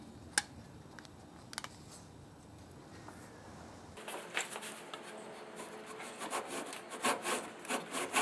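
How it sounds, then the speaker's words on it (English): A hand saw cuts a slot in wood for a small homemade rubber-band gun mechanism, starting with scattered light scraping taps and then steady back-and-forth rasping strokes, close and alone. "First, saw out this slot and then chisel it."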